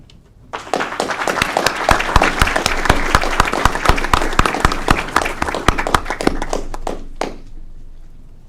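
Applause from an audience at a City of Aurora Committee of the Whole meeting honoring Parks and Recreation Month. Dense, steady clapping from many hands starts abruptly, holds strong for several seconds and trails off near the end.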